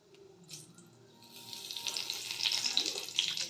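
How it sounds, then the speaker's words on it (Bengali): Cumin seeds and a bay leaf sizzle in hot mustard oil, a soft hiss that rises into a bright, steady crackle over a few seconds, close and without speech. "দেখো এখানে আমি সর্ষের তেল দিয়ে নিয়েছি, আর দিয়ে দেবো জিরে ফোড়ন দিলাম"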